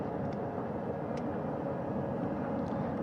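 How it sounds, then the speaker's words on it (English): A second helicopter returns to the ship's flight deck after picking up Artemis II crew, its continuous low rotor drone holding steady with a few faint high clicks over the top. "That second helicopter now making its way back over to the front porch."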